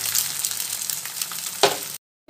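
An egg sizzles and fries steadily in a hot pan for a Kolkata-style egg chicken roll, a close, even crackle with one brief louder burst before it cuts to silence.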